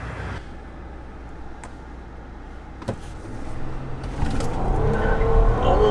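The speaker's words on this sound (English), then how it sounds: "Four-wheel drive, Bentley SUV losing traction." A heavy Bentley Bentayga SUV on 24-inch wheels, tuned to 800 hp, does a four-wheel burnout on takeoff. After a quiet stretch, engine roar and tyre noise swell and grow louder toward the end.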